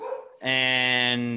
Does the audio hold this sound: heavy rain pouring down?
no